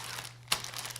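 Plastic bag being handled, a soft steady crinkling close up with one sharper crackle midway, quiet and without talk.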